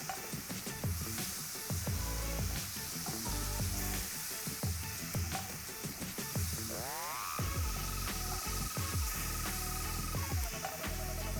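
Seitan steak fries in a pan with a steady, dense sizzle and crackle, while a rising tone briefly sounds in the background partway through.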